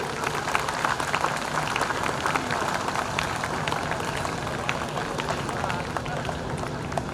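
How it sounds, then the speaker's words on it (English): Audience at a school annual day felicitation ceremony clapping loudly, a dense steady wash of many hands sustained for several seconds, with a low murmur of the hall beneath. "may I request all the audience to clap loudly"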